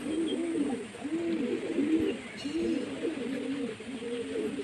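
Home-kept pigeons coo close by, one held in the hand, in a steady, repeated rhythm of low rolling calls, one after another.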